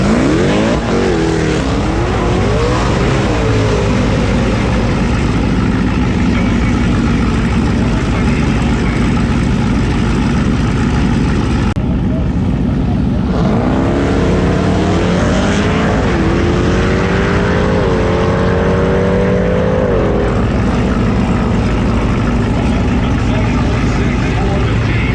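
A loud 1000-horsepower Jeep Trackhawk with a drag pack revs hard at a drag racing event. Rising engine sweeps and a steady roar are heard alongside crowd and track noise.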